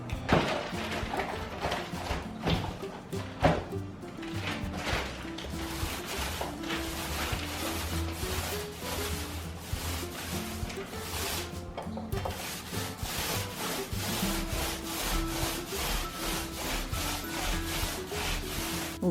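Paint being rolled onto a wall while painting a room for a small recording studio, continuous close scratchy rasping strokes in an uneven rhythm, fairly quiet, no talk.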